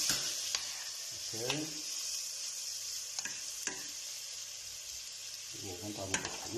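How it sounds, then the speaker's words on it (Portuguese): Rice sautés with vegetables in a pan, giving a steady sizzle and frying hiss with occasional scrapes and stirring knocks from a utensil, close and continuous. "deixar o arroz saltear juntamente com os legumes"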